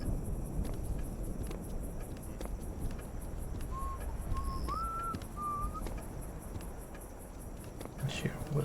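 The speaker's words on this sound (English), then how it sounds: "I hear whistling." Guard whistling a short tune in the video game Return to Castle Wolfenstein, a faint thin melody of a few notes over steady game ambience with crickets, ending in a brief louder noise.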